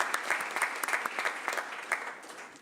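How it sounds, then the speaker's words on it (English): A round of applause at a Boston city council meeting, fairly faint, with scattered individual claps standing out from a modest group before tapering off. "Please give her a big round of applause."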